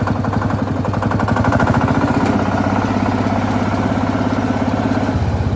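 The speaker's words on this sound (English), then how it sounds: "We'll get her in a higher gear here." A 1960 John Deere Lanz D2816 tractor engine chugs steadily nearby, a loud, even low-pitched knocking rhythm that holds throughout with a slight shift partway as gears change, with no talking.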